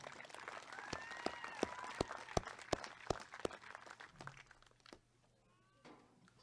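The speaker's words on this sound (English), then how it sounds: "Another round of applause for Jackie Jones." A graduation crowd at a 2020 North Miami ceremony gives a graduate a round of applause with sharp individual claps standing out. The applause fades after about five seconds, and a voice then begins to speak.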